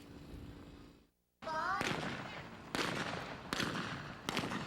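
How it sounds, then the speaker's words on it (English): Several sharp gunshots ring out at a cowboy action shooting event on horseback, spaced about a second apart and echoing after each crack, with a voice briefly audible. "a different kind of cowboy action shooting, on horseback."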